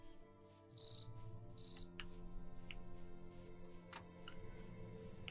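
Crickets chirp in Minecraft in a steady, dense drone, joined by a few brighter repeated chirp bursts and sharp clicks, with no talk over it.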